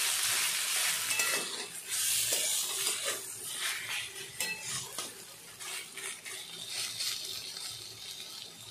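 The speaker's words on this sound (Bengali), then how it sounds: "ঘি দিয়ে কিছুক্ষণ নাড়িয়ে চাড়িয়ে আমি গ্যাসের ফ্লেমটা অফ করে দেব।" Banana flower curry with ghee being stirred in a pan over a gas flame, a continuous close scraping and sizzling with clinks of the spoon against the pan, loud and steady with no voices.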